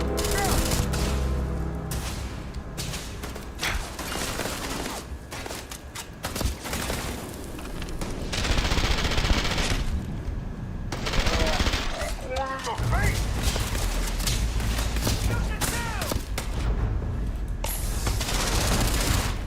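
Sustained gunfire from the space game Starfield: dense, rapid shots and bursts keep going in a chaotic firefight, mixed with booms and mechanical clatter, and voices can be heard faintly underneath.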